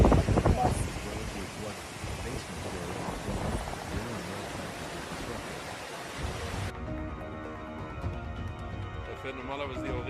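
Heavy rain pours during flooding in the German town of Stahlberg, where the Wichtbach River overflowed its banks. It makes a dense, constant hiss and roar with occasional deep rumbles, and a voice talks over much of it.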